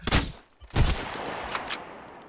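Gunfire in the survival game Sunkenland: two sharp, loud shots about half a second apart, followed by several fainter pops and a lingering rumbling tail, with no talking.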